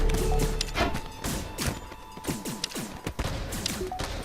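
Enemy ship weapons fire in FTL, a rapid string of game impacts and thuds, irregular bursts landing one after another over a few seconds, loud and alone without talk.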